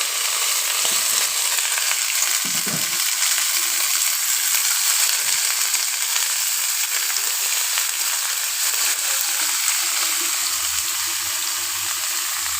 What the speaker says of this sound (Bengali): এখন আমি দিয়ে দিচ্ছি এতে কেটে ধুয়ে রাখা কায়তাগুলো